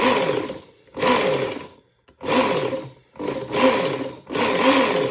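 A Work Sharp Ken Onion belt sharpener fitted with a grinding attachment whirs up in five short bursts, each about a second of loud motor and belt drone separated by brief near-silent pauses.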